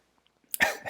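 A single short throat clearing, close and fairly quiet, breaks out of near silence near the end.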